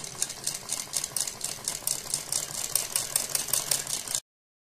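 Sewing machine stitching piping onto a kurti sleeve, a steady fast chatter of needle strokes at close range for about four seconds, then abrupt silence.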